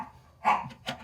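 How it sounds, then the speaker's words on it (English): A pet dog barks twice indoors, two short sharp barks close to the microphone with a gap between them. "excuse my dog barking"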